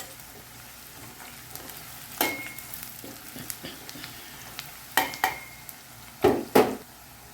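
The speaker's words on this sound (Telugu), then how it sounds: "ఇదిగోండి ఆల్రెడీ వెల్లుల్లిపాయ వేగిపోయింది. ఇలా వేగితేనే బాగుంటుంది." Garlic fried in a pan for bachali tomato curry, a steady low sizzle under several sharp clinks and scrapes of a utensil stirring against the pan.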